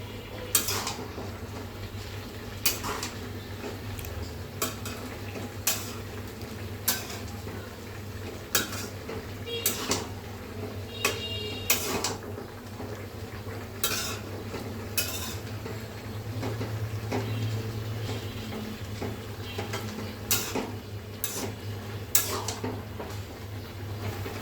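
Repeated metal-on-metal clinks and scrapes of a spoon stirring Chinese-style vegetables seasoned with ground black pepper in a pan, irregular and close, over a low steady background hum with no talking.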